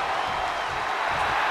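A WWE 2K24 video game crowd roars during a Jey Uso versus Randy Orton championship match, a brief, dense, steady wash of cheering with no clear individual voices.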